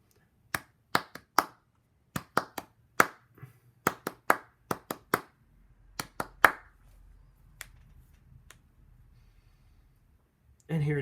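Hands clap out an eighth-sixteenth note rhythm alone, a series of sharp, close claps in quick groupings with short pauses between phrases.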